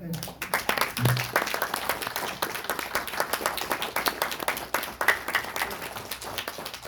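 Applause from a small audience at a Park Chung-hee memorial forum in Los Angeles, a steady patter of hand clapping with voices faintly underneath.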